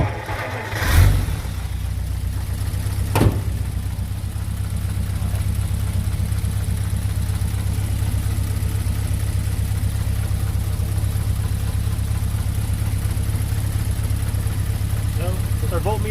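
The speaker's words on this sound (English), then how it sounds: "So let's start the engine." A classic car with a 6-volt electrical system cranks over with a brief burst, then settles into a steady, even idle that holds close and constant with no talk over it.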